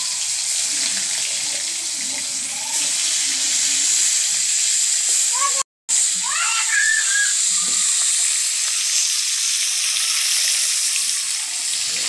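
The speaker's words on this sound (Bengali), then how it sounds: "এবার মাছটা আগে ভেজে নেবো।" Koi fish frying in hot oil for a curry, giving a steady broadband sizzle with water-like hiss throughout, broken by a brief dropout partway through.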